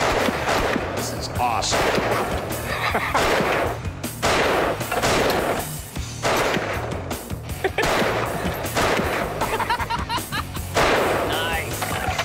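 A rare Nepalese Bir gun fires in loud, rapid repeated bursts that crack and echo close by, while excited voices talk over and between the shots.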